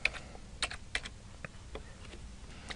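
Computer keyboard being typed on to enter an expense amount, a run of light irregular key clicks, close and fairly quiet.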